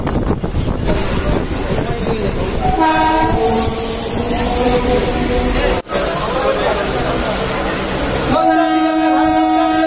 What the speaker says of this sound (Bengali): বারাসাত থেকে ট্রেনটা ছাড়লো 9:35-এ